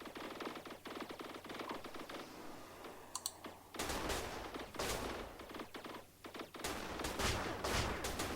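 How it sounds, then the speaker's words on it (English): Rapid crackling bursts of missile fire in the StarDrive space strategy game, a dense salvo of clicks and pops that swells louder midway and continues in waves, with no talking. "So there goes the first salvo."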